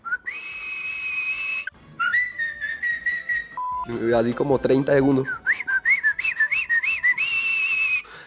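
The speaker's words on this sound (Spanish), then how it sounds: "si no nos decimos nada, nos silbamos" Two siblings trade melodic whistled greetings, tuneful rising and falling phrases near and fairly loud, broken by a brief spoken burst in the middle.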